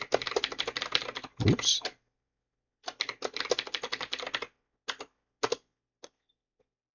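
Typing a username and password on a computer keyboard during an Ubuntu Server 24.04 LTS install: rapid, close key clicks in two busy runs, then a few isolated taps trailing off, with a brief spoken interjection.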